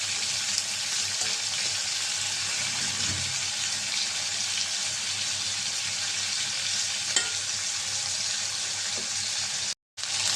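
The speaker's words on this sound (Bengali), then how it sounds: "মাংসটা বেজে নেবো তেল দিয়ে দিলাম তেলটা গরম হয়ে গেছে মাংসটা দিয়ে দিলাম" Chicken pieces frying in hot oil, a constant close sizzling hiss with occasional spatters and soft stirring sounds, running evenly until a brief cut near the end.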